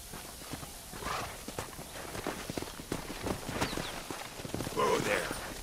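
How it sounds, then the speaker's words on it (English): Horse hooves clip-clop at a walking pace in the Red Dead Redemption video game, close and fairly loud, mixed with speech and other game sounds. "Horses are over here."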